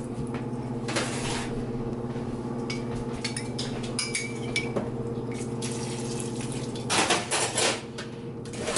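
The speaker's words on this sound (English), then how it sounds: "I'm gonna add some of the pasta water now." Starchy pasta water poured from a cup into a pan of carbonara sauce in a home kitchen, a steady watery splash with a brief louder burst of clatter near the end.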